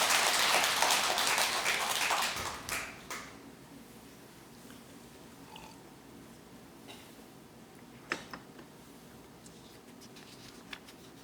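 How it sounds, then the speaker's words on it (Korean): Applause from an audience at a Buddhist dharma assembly, a dense burst of clapping at the start that fades within about three seconds, leaving a quiet hall with a few scattered sounds. "박수 한번 치세요, 그죠?"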